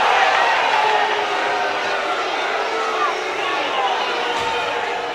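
Ice hockey arena crowd at a pre-season game reacting with disapproval to a penalty, a loud, dense wash of jeers and crowd noise that holds steady throughout.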